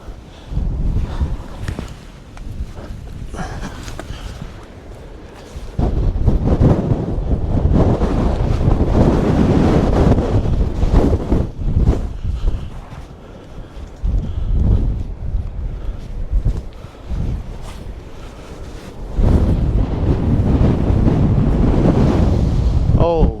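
Strong wind buffets the microphone in loud, sustained gusts beside a lighthouse on the coast, with surf and waves rolling underneath; the roar eases briefly before surging back.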